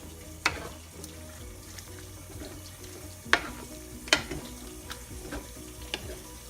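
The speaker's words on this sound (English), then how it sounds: "Now you're just going to slowly mix the meat in with the sauce." Ground beef stirred into heating pasta sauce in a pan for rigatoni, a low bubbling sizzle under a few sharp scrapes and clacks of a utensil against the pan, fairly quiet and close, with no talking.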